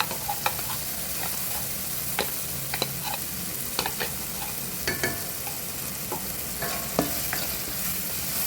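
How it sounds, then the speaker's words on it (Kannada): Ground masala paste and onion frying in a pan, a steady close sizzle broken by repeated spatula scrapes and clicks as the mixture is stirred, without any talking. "ಸ್ವಲ್ಪ ಈರುಳ್ಳಿ ಹಸಿ ವಾಸನೆ ಹೋಗೋ ತನಕ ಸ್ವಲ್ಪ ಫ್ರೈ ಮಾಡಬೇಕು"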